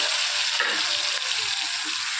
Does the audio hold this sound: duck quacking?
no